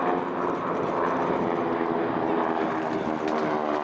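Aircraft engines drone steadily overhead at an air show display that features a Royal Air Force Hawker Hunter jet, a continuous moderately distant roar with a raspy edge and no break, while a commentator speaks over it.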